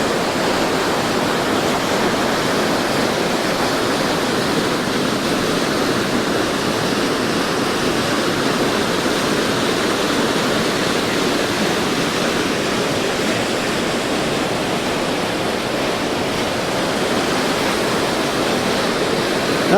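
A loud, steady roar of falling water fills the whole stretch, broad and unbroken, like a powerful waterfall heard up close.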